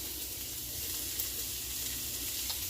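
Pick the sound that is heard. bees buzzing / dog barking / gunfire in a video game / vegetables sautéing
vegetables sautéing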